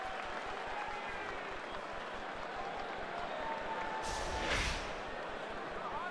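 A stadium crowd at a Reds at Cubs baseball game lets out a brief sarcastic cheer as the pitcher Lester tosses the ball over to first base, a short swell rising out of steady ballpark murmur and commentary.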